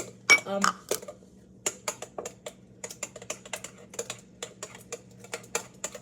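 Quick, rhythmic clinking of a whisk against a bowl of banana muffin batter, close by and fairly crisp, with a brief burst of sound near the start.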